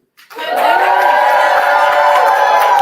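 A poetry slam audience erupts into loud, sustained cheering, whooping and shouting that swells in quickly and holds steady at full volume for nearly three seconds.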